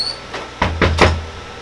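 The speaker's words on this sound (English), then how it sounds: "I have somebody knocking on my door." Three firm knocks land on a door in quick, even succession, close and loud, with a faint tone lingering before them and a quiet room after.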